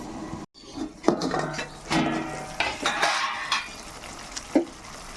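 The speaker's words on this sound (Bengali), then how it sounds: "ঢাকা দিয়ে দিচ্ছি।" A metal lid clatters onto a pan of yogurt egg curry after stirring with a steel spatula, giving several close metallic knocks and scrapes over a soft sizzle.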